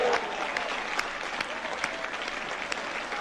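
A crowd in the Christie's auction sale room breaks into steady applause as a $400 million lot sells, dense clapping with a few sharper claps standing out, fairly distant and even throughout.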